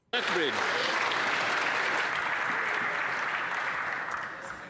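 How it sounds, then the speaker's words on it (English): Members of Canada's Parliament from all parties break into applause, a sudden dense burst of clapping that starts almost at once and stays full and steady, tapering a little at the close, with a brief voice near the start. "all members from all parties rose in applause"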